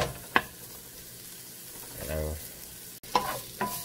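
Ingredients for catfish sauté sizzling in a pan, a soft frying hiss with a few sharp utensil knocks, close and brief.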